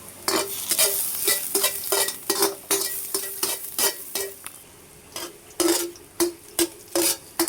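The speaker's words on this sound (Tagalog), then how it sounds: "Gisa na natin bawang, sama luya" Garlic and ginger sauté in a hot pan, a steady sizzle broken by frequent rhythmic scrapes and clacks of a spatula against the pan, close and clear with no talking.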